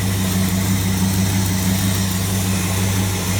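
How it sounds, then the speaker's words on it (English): A car engine idles steadily on a newly installed distributor, a continuous low hum and rumble with a slight vibration, close and even throughout with no speech. "Running again with a brand new distributor."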